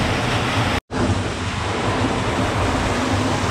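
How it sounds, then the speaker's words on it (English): Steady roar of a waterfall inside a dark cave on Maui, a dense unbroken rush filling the whole clip, loud and close, with one abrupt instant of silence near the start. "Here we go, up the waterfall."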